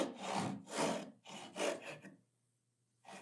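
A hand saw cuts the shoulder of a wood joint along a knife wall, giving about five close, rhythmic rasping strokes, a brief pause, then one more stroke.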